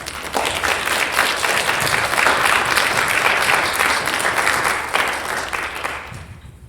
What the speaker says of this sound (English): how about giving Lolita another round of applause?